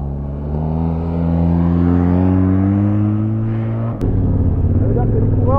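A Republican Guard motorcycle escorting a cycling race accelerates, its engine drone rising steadily in pitch and loudness, close and continuous, with a brief shift around the fourth second and wind noise throughout.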